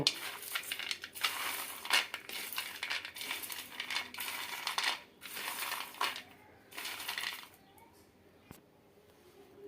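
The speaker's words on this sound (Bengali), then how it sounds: "আমি হাত দিয়ে এইভাবে করে খোসাগুলো ছাড়িয়ে নেব" Cooled roasted peanuts being rubbed between the hands to strip their papery skins, giving close bursts of dry crackling rustle that come in uneven waves and fade toward the end.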